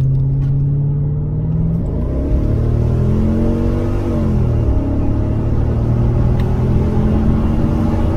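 A Mercedes-AMG ML engine revs and climbs in pitch as the vehicle accelerates, a loud steady rumble with shifting engine tones, no voices.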